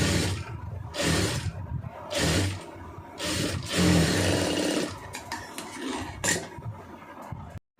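A sewing machine stitches fabric in several loud, whirring bursts separated by short pauses, close by, then stops abruptly at the end.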